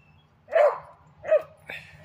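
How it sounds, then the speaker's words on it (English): A Feist squirrel dog on a daytime coon hunt gives three sharp, close barks spaced about half a second apart, with no talking. "That's a good dog."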